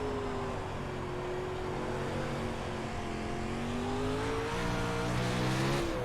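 Race car engine in iRacing on a dirt track, droning steadily and rising and falling in pitch as the throttle is modulated, a continuous close engine tone with no voices.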